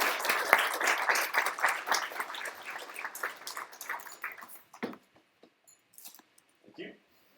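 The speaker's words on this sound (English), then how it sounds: "Let's give a round of applause to Will Iscott." An audience at a London tech workshop applauds a speaker, with dense clapping that is loud at first and then thins out into a few scattered claps and stray noises.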